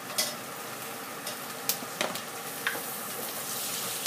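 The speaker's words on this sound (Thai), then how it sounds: "ผัดหอมแดงหอมแล้วก็ใส่หมูบดลงไป" Shallots and minced pork being stir-fried in a pan, a steady low sizzle with scattered light scraping and tapping from the utensil, close by and without speech.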